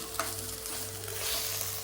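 Steady sizzling of cumin seeds frying in hot oil in a small steel pressure cooker, with faint stirring scrapes and a low hum underneath, fairly close and continuous.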